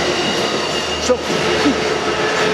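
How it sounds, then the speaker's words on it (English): A passenger train carrying people rolls past, a steady loud rumble and hiss of wheels on rails with faint squeals, while someone speaks briefly over it. "Right now is this train with people going by."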